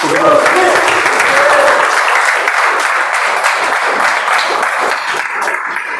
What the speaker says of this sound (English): please welcome Nabil with a big round of applause